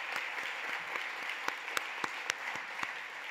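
An audience at an awards gala claps in a soft, even wash of applause, with a few sharper individual claps standing out. The sound is fairly quiet and distant.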